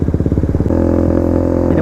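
KTM two-stroke motorcycle engine from the 250/300 EXC line, loud and close, with a choppy rapid idle pulse that jumps into a steady, high-pitched buzzing rev held to the end.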